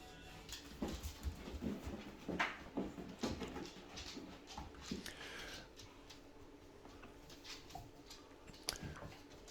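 A puppy and an adult search and rescue dog playing together, with soft chewing, panting and small scuffling noises at low level, continuous and close, no talk.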